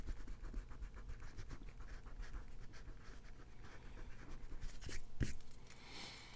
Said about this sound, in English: Erase this.